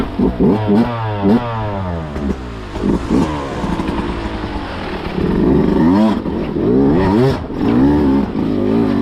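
A Beta 200 Racing off-road motorcycle revving hard close by, repeated sharp climbing engine sweeps and blips that build into sustained loud revving.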